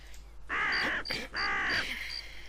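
Two harsh, loud caws from a crow in the fantasy strategy game SpellForce, each call about half a second long, separated by a short gap over faint background ambience.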